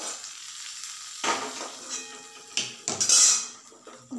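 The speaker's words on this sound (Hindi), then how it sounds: "उसके ऊपर हम तड़का डाल देंगे" Hot oil tempering hisses and sizzles as it is poured over dahi bhalle, with a few metal clinks of a pan and utensil, loud bursts settling into a softer crackle.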